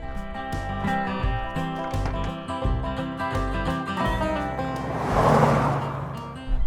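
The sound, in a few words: 2nd generation Chevrolet C10 pickup truck driving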